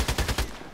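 TT pistol shots in the Contract Wars game crack out in a quick burst of four sharp reports, close and punchy, with a short ringing tail after the last.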